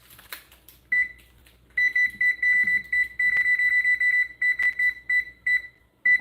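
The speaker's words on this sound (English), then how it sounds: "Put the timer on, Kim. Can't burn the brownies." A kitchen timer for brownies in the oven beeps in a rapid repeating pattern, a single short beep first and then a long run of steady high-pitched pulses, close and clear.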